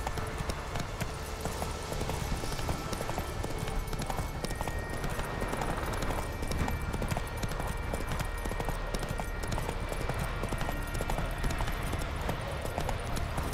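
Roach, a horse in The Witcher 3, gallops in a fast, steady clip-clop of hooves that runs unbroken for the whole stretch, fairly close, over a busy game soundscape.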